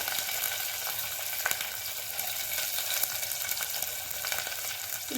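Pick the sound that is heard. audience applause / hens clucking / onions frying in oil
onions frying in oil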